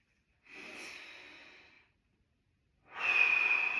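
Two long, deep breaths taken through the nose during a core stability breathing demonstration, each an airy, close rushing draw with a silent gap between them and the second louder, with no words spoken.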